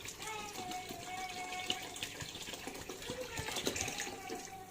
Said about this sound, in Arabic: هنعمل الصلصة، هزودها مية